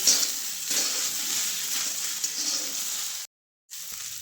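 Okra (bhindi) sizzles loudly in a frying pan as it is stirred, a steady hiss with soft scraping. It cuts off abruptly near the end, then resumes briefly.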